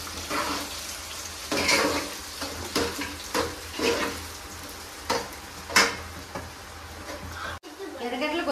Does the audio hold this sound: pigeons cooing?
no